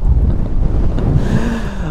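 Strong, cold autumn wind buffets the microphone in low, rumbling gusts on open water while fishing, loud and constant throughout, with a hint of water noise underneath.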